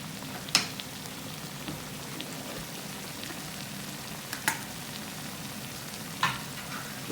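Chopped Italian tomatoes go into a pan already frying mushrooms for batch cooking, giving a soft, steady sizzle close by with a few sharp clinks of a utensil against the pan.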